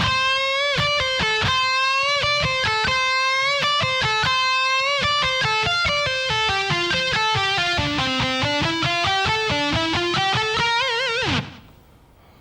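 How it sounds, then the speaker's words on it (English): Electric guitar lick, a fast, clean run of rapid picked notes climbing and falling in quick succession, close and loud, ending abruptly with a short cutoff. "that second half of the lick should sound like this"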